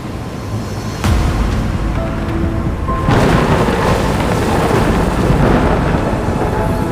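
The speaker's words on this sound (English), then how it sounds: "when the storm surges from the deep sea" Thunder cracks sharply, then rolls into a loud, sustained storm roar over heavy rain at sea, a dramatic Love & Deepspace video game scene with no voices.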